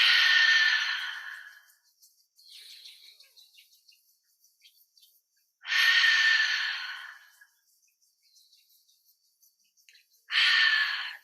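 Slow, deep breaths rise and fall during a calm group meditation circle, with three long airy exhalations set apart by quiet pauses and faint soft sounds of the room in between.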